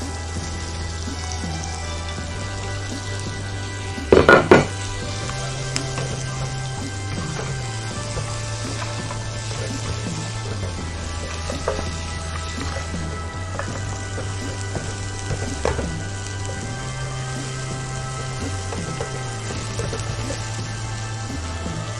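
Prawns, butter, onions and mixed vegetables stir-fry in a pan with a steady crackling sizzle, like rain on a surface, continuous and close, with a low background hum and a few brief clatters.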